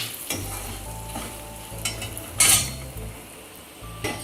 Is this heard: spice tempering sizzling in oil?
yes